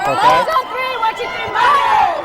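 Lively crowd of parents and classmates cheering and shouting at a high school girls' volleyball match, Nevada Union against Oak Ridge, loud swelling bursts of voices with a brief spoken word in between.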